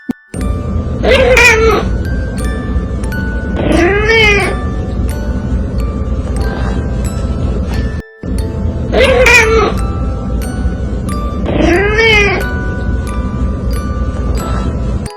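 A cat meows in pairs of drawn-out, insistent cries, repeated twice over a steady background hum.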